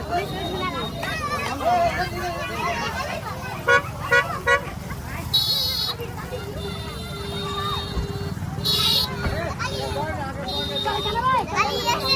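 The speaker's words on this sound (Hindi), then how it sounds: "बहुत ज्यादा रोड जाम हो गेलै हन" Congested road in a dense crowd, with car horns tooting in short repeated bursts over a steady murmur of engines and crowd babble, as someone talks nearby.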